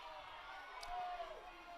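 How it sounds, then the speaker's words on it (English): Spectators at a girls' high school soccer game on senior night loudly voice their displeasure at a referee's call, a dense, continuous crowd roar with shouting voices mixed in. "the crowd's letting them hear it on that call. They do not like that one."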